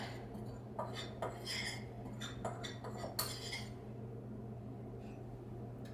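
Flour, baking powder and cinnamon mixed by hand in a bowl, a few quiet scraping, clinking strokes of a utensil in a burst before the sound trails off into near silence.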